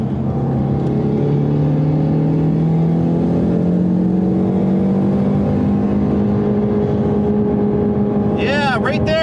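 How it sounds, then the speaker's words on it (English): A car engine, run on a gallon of Lucas Fuel Treatment, is held near top RPM while driving, giving a loud, close, sustained drone whose pitch creeps slowly upward, with a brief chirping burst at the end. "you got to be able to just wring it out, just keep it at the top RPMs for as long as possible"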